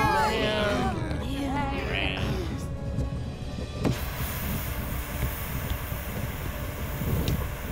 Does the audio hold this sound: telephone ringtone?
no